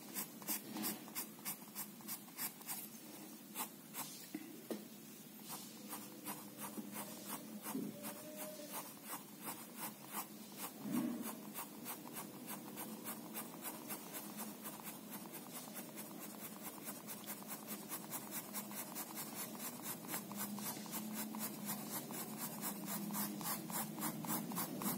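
A pencil shades and rubs on paper for a still life sketch of an object, a close, steady, fast scratching stroke repeated in an even rhythm that grows slightly louder and denser toward the end.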